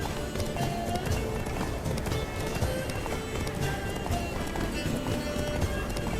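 Horse hooves galloping in the video game Witcher 3, a steady run of clip-clop beats under music and game sound, with a whinny in the mix.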